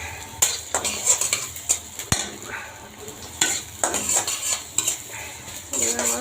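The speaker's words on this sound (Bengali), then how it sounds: "আমার ভাজা হইতেছে" Pan cooking with onions frying in oil, close up: scraping and clinking of a spoon stirring against the pan, with a soft sizzle underneath. Nobody speaks.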